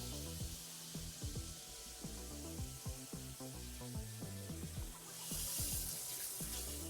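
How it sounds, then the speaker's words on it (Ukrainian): Hot water running from a tap, a steady, faint hiss of flowing water with a rhythmic tonal pattern from a nearby appliance running underneath, growing slightly brighter near the end. "зараз гарячу воду увімкну"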